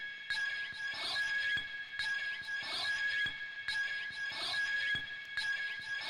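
A reversed, chopped-up sample pushed through heavy Guitar Rig distortion in FL Studio plays as a looping electronic phrase of repeating gritty, whooshing swells with sharp cuts, steady in level and free of speech.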